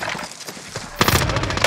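Gunfire in the Warzone battle-royale game, a sudden loud burst of rapid shots crackling after a quieter stretch of muffled in-game sounds, close and dense.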